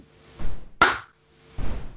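One crisp hand clap from someone lands close by between two softer thumps of handling noise in a quiet room.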